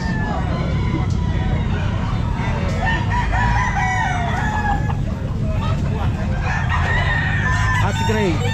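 Roosters crowing repeatedly at a crowded chicken pet market in Calumpit, several overlapping calls over a dense, loud background of clucking birds and people talking.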